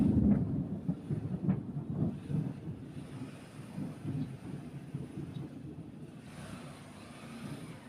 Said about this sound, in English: That's the volcano rumbling away.